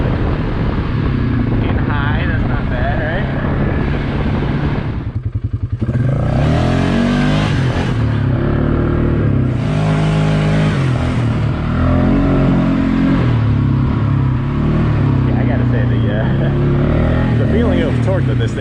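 A 450 quad's engine revs hard and loud while the front wheels lift off the ground, rising and falling in bursts with a brief dip partway through, and a rider talks over the roar.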